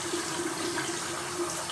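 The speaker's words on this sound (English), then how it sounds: "I'll run it through the water and kind of squeeze the brush hairs together" Running water from a tap pours steadily as a foundation-covered makeup brush is rinsed under it, a close, continuous hiss and splash with a faint low hum beneath, and no voices.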